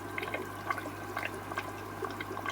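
Vinegar poured through a sieve into a jar, faint trickling and small drips and splashes of liquid in an uneven rhythm over a low steady hum, close and quiet.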